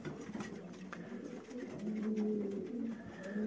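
Racing pigeons coo in low, throaty warbles close by in a loft, overlapping in a steady murmur with faint rustling in the background.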